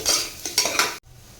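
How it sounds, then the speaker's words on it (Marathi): Crushed garlic sautés in hot oil while a utensil stirs it against the pan in several scraping, sizzling strokes. The stirring cuts off abruptly, leaving faint low background noise. "लसूण ठेचून घेतले ते घालणार आहे. आणि लसूण सुद्धा तेलामध्ये छान परतून घ्यायचं आहे."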